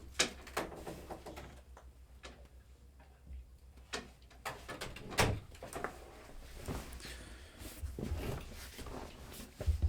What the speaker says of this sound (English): I'm just gonna close my door really quick.